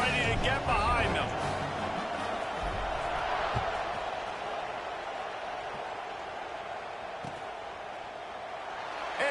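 Football stadium crowd at kickoff of an FSU vs Duke game, a broad, steady roar of many voices filling the whole stretch, loud and continuous with a slight swell at the start and end.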